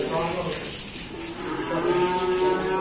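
Young bull cattle newly arrived at a livestock dealer's pen moo loudly and close by, one drawn-out low call rising and holding across the whole stretch.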